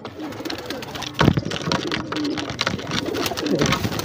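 A breeding pair of Neelay Kamagar pigeons, a male and a female, coo softly and fairly close in Lahore, with a brief flutter or scuffle partway through and faint background noise.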